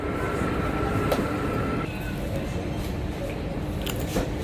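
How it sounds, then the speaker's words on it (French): Riding inside a metro train in Majorca: constant loud rolling rumble of wheels on rails with clicks and a faint squeal, voices murmuring in the carriage. "je sais que tout à l'heure j'ai dit le train, mais c'est le métro"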